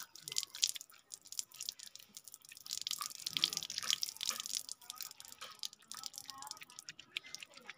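Water drips and splashes as soap is put into water on a rooftop, with a busy crackle of small drops and trickles that swells mid-clip and stays fairly close.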